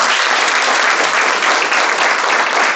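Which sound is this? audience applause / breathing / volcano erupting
audience applause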